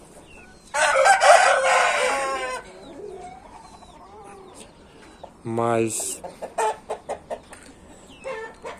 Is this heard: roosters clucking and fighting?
yes